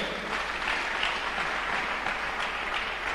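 A church congregation claps together in a steady, dense burst of applause that fills the room, sustained evenly without pause and with no voices standing out.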